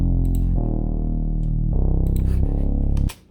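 Synth bass for the break in a future house track, a thick, distorted sustained tone shifting through a few held notes, loud and alone before cutting off abruptly near the end.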